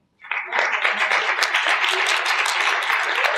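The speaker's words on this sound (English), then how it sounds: "I want to give them a stronger round of applause." Audience applause at a talk on leveraging and collaboration, starting abruptly and holding as dense, steady clapping throughout, loud and close with no pause.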